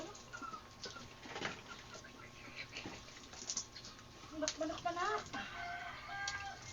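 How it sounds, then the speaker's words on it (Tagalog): Hens cluck and chatter softly in the distance, with scattered bird calls and a few brief wing flaps over a quiet outdoor background. "Manok."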